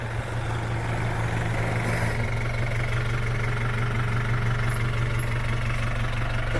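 An Isuzu Elf mini dump truck's 4BE1 diesel engine idles in Davao, Philippines, a loud, close, steady rumble with a regular knocking beat and no speech.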